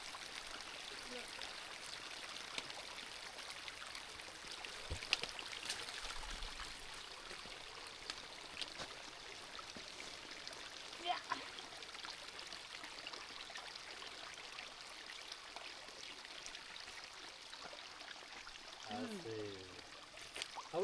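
A jungle stream on a trek up Mount Leuser flows in a steady, broad rush that runs the whole time, with a few faint voices briefly heard near the end.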